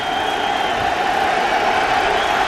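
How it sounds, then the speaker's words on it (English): A Detroit Lions home crowd roars through a 1994 pro football game against the Chicago Bears: a dense, steady wall of stadium noise that holds at one loud level, with no distinct voices standing out. "Lion crowd in full roar"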